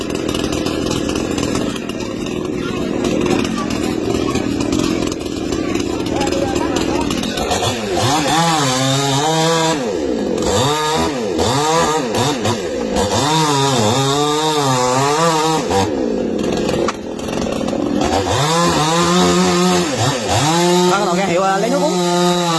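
A large chainsaw revs steadily and then cuts into a big tree trunk, its engine note rising and falling in repeated surges as the bar bites into the wood. It runs loud and close throughout, with no talk over it.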